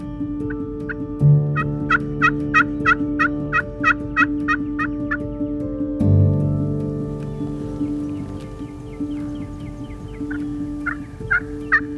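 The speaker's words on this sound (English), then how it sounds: "There's that gobbler." A wild turkey gobbler gobbles in two loud, rapid rattling bursts close by, each a quick series of throaty notes, followed by fainter, scattered gobbles against a steady low background hum.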